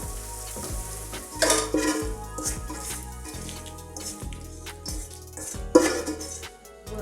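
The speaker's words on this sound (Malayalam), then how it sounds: "ചെറിയ ഉള്ളി നന്നായി വതങ്ങി വന്നിരിക്കുകയാണ് അപ്പോൾ പരിപ്പ് കറിയിലേക്ക് ചേർത്ത് കൊടുക്കാം" Fried shallots, cooked until soft, sizzle as they are tipped into a lentil curry with the flame off. Two sharp hissing bursts and clattering stirs sound close over a soft sizzle, with steady background music underneath.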